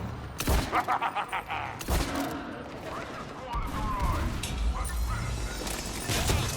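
Gunfire in the video game Mass Effect 3 fills the scene: a quick burst of rapid shots, then heavy blasts and mechanical clatter amid ongoing combat noise.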